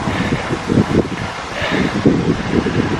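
Strong wind buffets the microphone while riding a recumbent trike through Holland, a loud, continuous roar with gusty surges and rumbling low-end pulses, no voices.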